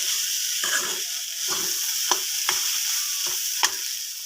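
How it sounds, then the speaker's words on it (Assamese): A spoon scrapes through banana flower and masoor dal in a hot pan over a constant hissing sizzle, with roughly six distinct stirring strokes, close and fairly loud. "গোটেইখিনি বস্তু মিক্স কৰি কিছু সময় লৰাই থাকিম।"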